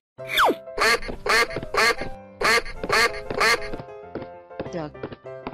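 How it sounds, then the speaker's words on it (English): A duck quacks in a rapid series of loud, close, nasal calls, several in a steady rhythm followed by a few softer, shorter ones. "Duck."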